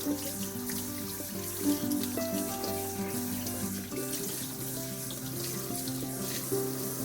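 Tap water runs steadily into a kitchen sink while roasted chiles are rinsed under it to remove skin, a continuous soft splashing with small shifts as the peppers move through the stream.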